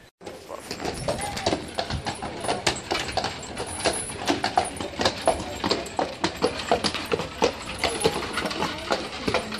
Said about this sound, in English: You can actually go for a ride on these horses.